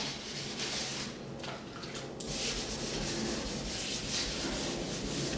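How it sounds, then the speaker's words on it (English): Close, steady rubbing of sandpaper wet sanding primer on a Fiat Spider car body, scraping back and forth in continuous strokes, with no talking. "Now when I'm sanding here"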